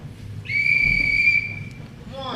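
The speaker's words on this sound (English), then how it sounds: "that godforsaken whistle and everything else" A single sustained, steady whistle blast during a wrestling match, shrill and fairly loud, lasting about a second over a murmuring crowd background, followed by faint noise.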